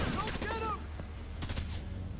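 Gunfire in The Division 2 video game: bursts of rapid shots crackle through the opening and again around the middle, mixed with game effects and a steady low rumble, while a voice talks over the action.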